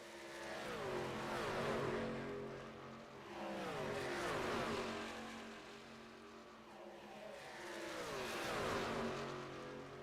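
Race trucks thunder around Daytona International Speedway in iRacing, engines rising and falling in three sweeping pass-bys with pitch dropping as each roars past, steady and fairly loud with no talk.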